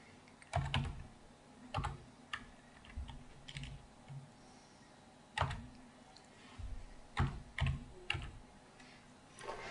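A computer keyboard is typed on in uneven bursts of soft keystroke clicks, faint and close, with a low background hum and no talking.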